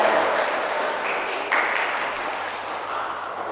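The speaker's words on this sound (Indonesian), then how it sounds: "Oke, tepuk tangan untuk kalian semua" A classroom of students claps together for themselves at the close of a school lesson, a steady wash of hand claps that holds at fairly even loudness throughout.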